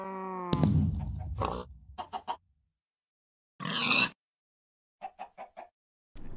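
Short grunting animal snorts and clucking bursts from Minecraft farm animals, a pig among them, come in scattered clusters with silent gaps, brief and fairly close, one longer noisy burst in the middle.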